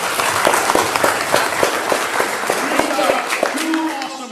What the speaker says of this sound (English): Let's give our newest members a round of applause again